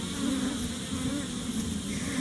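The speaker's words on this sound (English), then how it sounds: "this higher pitched hum is the sound of bees being really annoyed" Honey bees in an opened hive during an inspection give off a loud, steady, higher-pitched angry hum that fills the whole moment without break.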